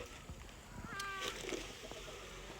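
A single short cat meow rises over a steady noisy background, fairly faint and somewhat distant.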